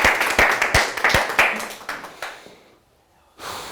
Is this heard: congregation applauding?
yes